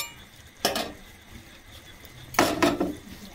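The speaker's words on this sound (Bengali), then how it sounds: "এবার আমি এই গ্রেভিটার মধ্যে পটেটো বলসগুলো দিয়ে দেব। দিয়ে মিশিয়ে নিচ্ছি।" A spoon scrapes and clinks in a pan twice as spicy potato balls are stirred into gravy, two short distinct bursts of utensil against metal over a faint background hiss.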